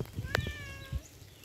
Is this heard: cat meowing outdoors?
yes